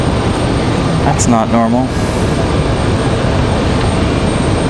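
A Republic Airways jet airliner at Raleigh-Durham airport gives a loud, steady engine roar and rushing wash throughout, and someone briefly talks over it.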